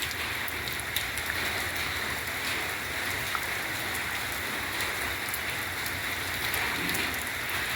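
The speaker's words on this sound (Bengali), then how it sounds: "এরকম ঝমঝম ঝমঝম করে বৃষ্টি আওয়াজটা শোনো" Heavy rain patters down in a thick, continuous wash, with occasional sharper drops striking nearby surfaces.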